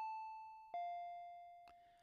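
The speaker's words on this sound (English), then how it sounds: "I heard the doorbell ringing." In the Higurashi When They Cry Hou visual novel, a clear two-tone ding-dong doorbell rings twice, each chime ringing out and decaying, with a short sharp tap at the end.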